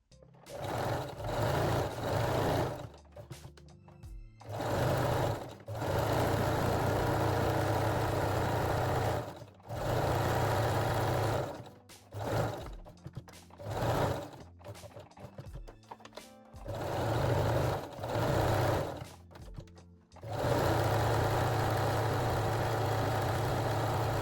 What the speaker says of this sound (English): Then fold the fold over elastic and sew it again.